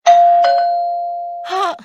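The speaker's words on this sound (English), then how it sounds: "Since when SuperZings rings the doorbell before entering?" A cartoon doorbell sounds a clear two-note ding-dong, the second tone ringing out and slowly fading before a brief animated voice cuts in.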